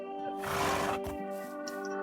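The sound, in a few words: horse neighing in a video game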